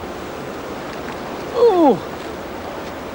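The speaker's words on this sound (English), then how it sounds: "Oh, that water really is coming down there." Water rushing steadily over a weir sluice in a river weir pool, a constant broad roar, with one brief exclamation from a person near the middle.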